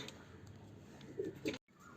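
Pigeons at a water dish, two soft low coos close together over a faint hiss, without speech.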